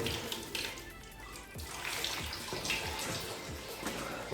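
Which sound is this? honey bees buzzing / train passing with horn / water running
water running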